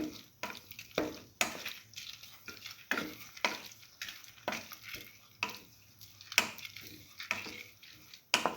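Potatoes and bread stirred in a frying pan, repeated scraping and tossing strokes with a soft sizzle underneath, close and quiet, roughly one stroke per second with no talking.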